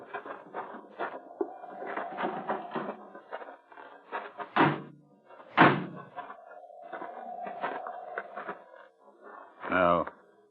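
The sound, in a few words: door opening, radio drama sound effect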